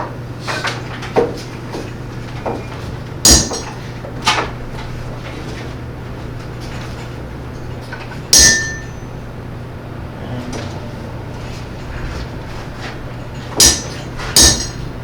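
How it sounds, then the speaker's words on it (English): Sharp metal taps from a handmade hammer striking a handmade center punch at a blacksmith event, sounding as a few isolated, fairly close strikes spaced several seconds apart over a steady low hum. "So I'm getting to use the center punch that I made, the hammer that I made, so extra satisfying."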